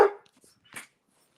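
A dog gives two short barks indoors, the first sharp and close, the second fainter and shorter, with quiet between them.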